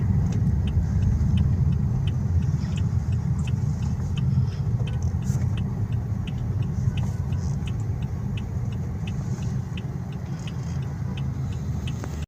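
A Toyota Vios engine with a clogged exhaust, weak pulling power and backfiring runs with a continuous low rumble and a faint regular ticking, close and steady with little change in level throughout.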